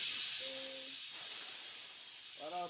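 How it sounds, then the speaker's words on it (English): A steam iron vents excess steam before pressing a quilt block, a loud, close, continuous hiss that fades slightly, with brief tonal hums or voice fragments at moments. "Let off some steam."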